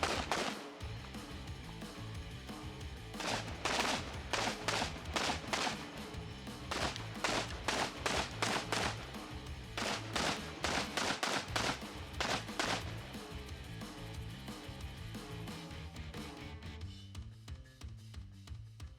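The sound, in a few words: Daewoo DR200 rifle gunfire at a shooting match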